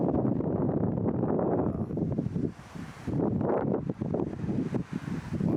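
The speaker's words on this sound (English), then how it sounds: "why is it this windy?" Strong wind buffets the microphone on a city street lined with swaying street lights, a loud, continuous roar surging and dipping in gusts with no voices.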